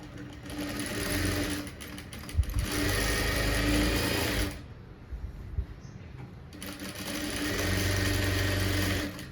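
A sewing machine stitches the back panel of a blouse, running in two long loud bursts of fast whirring with a short pause between them, close by and without talk.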